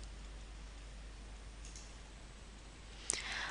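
A computer mouse click sounds once in the BioNumerics 7 software window, sharp and close near the end of a quiet, faintly hissing stretch.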